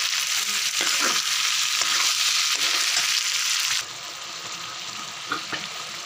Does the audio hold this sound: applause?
no